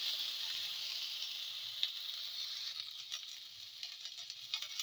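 Onions fry in oil in a pan, giving a steady, fairly soft hiss that holds evenly, with a few light scrapes and crackles toward the end.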